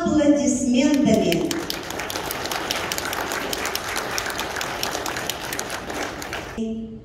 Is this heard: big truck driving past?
no